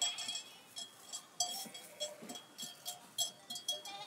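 A flock of sheep grazing in the Fontainebleau forest, with bells clinking in quick irregular bursts and faint bleats mixed in, fairly close, with no voices.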